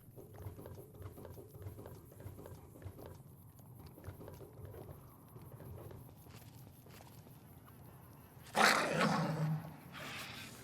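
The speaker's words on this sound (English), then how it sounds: "it tells me whenever I am in combat. That's really cool. Lets me know by growling." Growling combat alert from the Fallout: New Vegas Old World Blues game, a low rumbling beast-like growl surging loudly near the end over quieter background game ambience.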